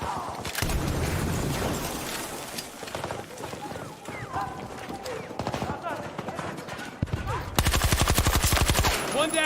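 Rapid bursts of gunfire in a video game, a steady volley of shots followed by a fast, evenly spaced rattle near the end, loud and close over busy game noise.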